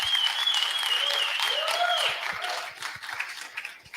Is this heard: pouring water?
no